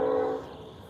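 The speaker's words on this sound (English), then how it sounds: "There you go, there's the whistle." A train horn sounds across a river from tracks on the far bank, a single sustained tone fading out within a second, distant and moderately faint with a low rumble behind.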